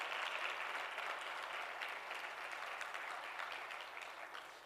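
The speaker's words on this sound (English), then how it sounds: "Let's have a big round of applause for him and his work." Audience applause after a speaker introduces the creator of JRuby at a Ruby programming conference talk: dense, steady clapping from a crowd that holds for nearly five seconds and thins slightly at the end.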